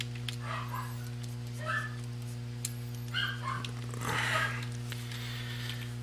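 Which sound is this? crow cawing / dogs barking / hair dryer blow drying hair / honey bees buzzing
dogs barking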